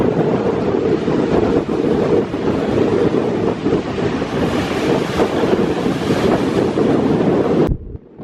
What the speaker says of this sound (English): Quite windy out here on the shores of Lake Erie. You can see the waves crashing there.